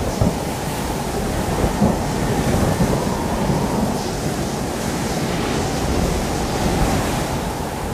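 Violent sandstorm wind sweeping across the Gobi desert, a steady, loud, roaring rush of broadband noise that holds without pause for the whole stretch, with no voices.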